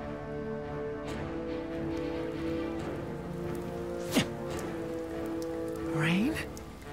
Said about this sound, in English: No. That's spray from the collision.